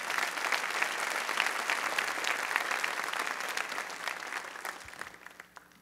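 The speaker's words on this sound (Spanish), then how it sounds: "Si Dios le habló, dele un aplauso al Señor," A church congregation claps in a sustained burst of dense applause that holds steady, then tapers off near the end.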